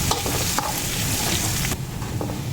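Pork frying with garlic in a pan sizzles loudly and steadily up close, with a few clinks and scrapes from stirring over the continuous hiss.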